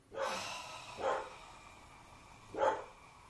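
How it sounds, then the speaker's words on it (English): Dog barking, three separate barks spaced irregularly, fairly close and moderately loud against a quiet room background, with no talking. "Dog's barking."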